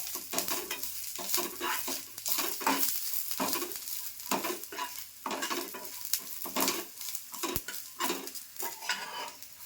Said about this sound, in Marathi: कोथिंबीर भाजून घ्यायची हो छान अशी भाजून घ्यायची हो